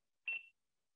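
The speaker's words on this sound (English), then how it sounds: "Long beep signifies the factory reset." A single electronic beep sounds from a BEA universal keypad during a factory reset, a clear high tone lasting about a quarter second, then silence.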